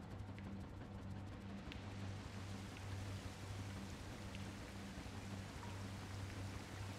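Ambient water in the video game Nier: Automata, a steady quiet wash like rain or a flowing stream, with a faint low hum running underneath throughout and no talking.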